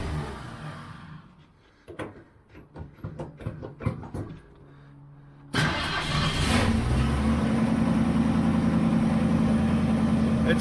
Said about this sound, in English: It fired up on first crank.